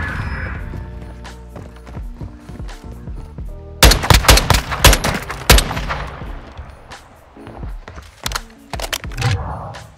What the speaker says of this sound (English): this gun's fire rate is actually pretty decent. I'm not even using it full auto